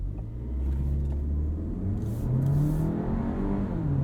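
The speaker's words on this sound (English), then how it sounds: "While we're on the stretch, let's test out the brakes and do a 0 to 60." A 2022 Volkswagen Tiguan SEL R-Line AWD accelerating hard from a stop toward 60 mph, heard from inside the cabin, engine drone rising steadily in pitch through the gears with a brief shift dip.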